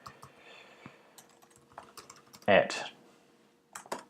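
Light, scattered clicks of typing on a computer keyboard while entering invoice details, heard close with a louder clack partway through and a voice briefly speaking.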